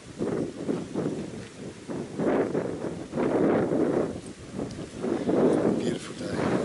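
Gusty wind outdoors buffets the microphone in rumbling, surging waves that rise and fall for several seconds, with no talking.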